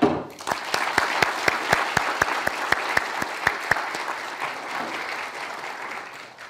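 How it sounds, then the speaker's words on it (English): An audience applauds a lecturer at a national security talk, with a few sharp, evenly spaced claps standing out over the steady clapping before it thins out and fades after about four seconds. "let's give Rory a round of applause for being awarded this lecture"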